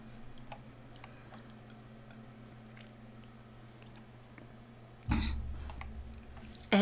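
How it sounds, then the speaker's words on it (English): A short cough bursts out at close range, then another starts at the very end, over a steady low hum in a quiet room. "I keep coughing on it."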